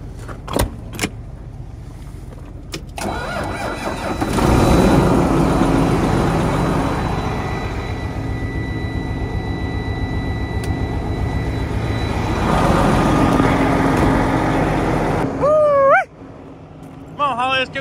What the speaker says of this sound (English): Trucks warming up.